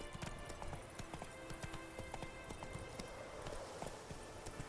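Roach, the horse in The Witcher 3, gallops with quick, rhythmic hoofbeats that sound faint and steady throughout.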